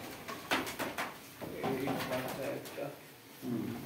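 Pigeons at a farm coo softly, a few brief low calls, faint and close, mixed with someone talking nearby.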